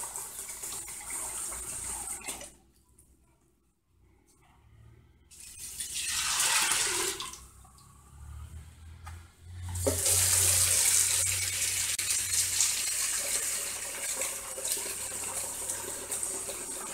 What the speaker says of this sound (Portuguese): E adicionando a água, tá?